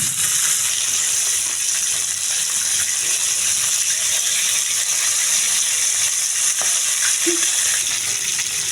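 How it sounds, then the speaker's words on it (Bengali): Poa fish fries in a pan of hot oil, giving a loud, steady sizzle and crackle that runs unbroken, with a few small clinks and scrapes near the end. "দেখতেই পাচ্ছেন আমার মাছটা ভাজা হয়ে গেছে"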